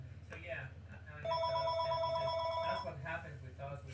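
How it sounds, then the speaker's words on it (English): A telephone bell rings in a steady repeating pattern through the middle of the clip, mid-loud, under and between ongoing talk. "Phone's ringing"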